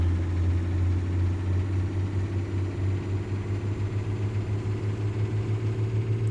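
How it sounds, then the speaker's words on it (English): Heavy truck engine in American Truck Simulator, hauling a 97,000-pound load, a loud steady low rumble that holds a sustained drone throughout with no talk. "One thing about this engine is it does rev out."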